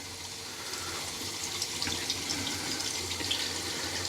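A bathroom tap runs in a steady stream to wet a shaving brush before a shave, a soft continuous hiss of flowing water heard close and alone.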